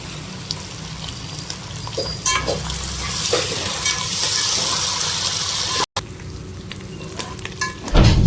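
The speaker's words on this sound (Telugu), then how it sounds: "ఎండుమిర్చి వేసుకొని పచ్చిమిర్చి కూడా వేసుకోవాలి కరివేపాకు కూడా వేసుకొని క్రిస్పీగా ఫ్రై చేసుకోవాలి" Peanuts fry crisp in hot oil with dried red chilies, green chilies and curry leaves, a loud, dense, continuous sizzle and crackle with some stirring scrapes in the pan, close and without speech.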